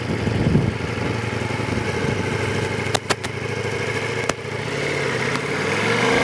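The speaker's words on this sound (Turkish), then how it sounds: "Şimdi şu an ABS'leri aktif olan bir motosiklette ilk adım olan gaz kes, debriyaj ve arka freni yapmak üzere Parkurumuzun başına geçiyorum." A motorcycle with ABS idling steadily nearby on a braking practice course, a constant low rumble with a few sharp clicks and a slight rise toward the end.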